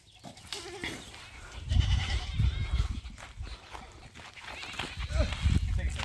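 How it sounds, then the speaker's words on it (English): Kiko goats on a farm bleat and scream loudly and repeatedly, hungry and clamoring, with several overlapping cries close by amid rustling and background noise. "those guys scream at us just because they want to scream and they're hungry"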